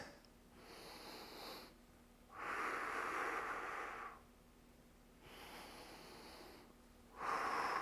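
Audible breathing during a no-equipment bodyweight strength workout, with alternating inhales and exhales in a slow steady rhythm, four or five breath phases heard close and fairly soft without talk.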